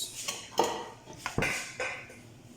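A cooking pot is handled while making Ekpang nkukwo, giving a few close metallic clanks and knocks spaced irregularly over a quiet kitchen background, with no talk.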